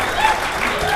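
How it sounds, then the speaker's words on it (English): Brief applause for musicians who have just sight-read new music, a short dense burst of clapping that fills the moment at fairly close range and stays loud throughout. "That applause is well due."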